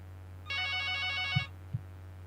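A landline telephone rings once in a steady electronic burst lasting about a second, loud and alone over a low constant hum, followed by two short thumps.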